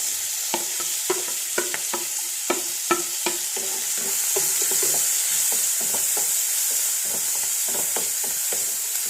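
Curry leaves and tomato fry in a pan for a yogurt curry, with steady sizzling throughout and a run of sharp, irregular scraping stir strokes of a spoon against the pan, close and fairly loud.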